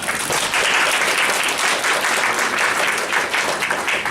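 A theater audience at a film stage greeting claps steadily, a dense, even wash of applause that carries on unbroken for several seconds with no talk over it.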